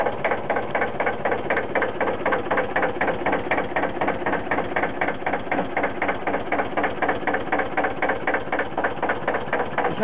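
A Fendt Farmer 1 tractor idles with its PTO engaged. The engine chugs in an even, rapid knocking rhythm, and a mechanical clatter runs throughout at a steady, moderate level, close by and with no talking.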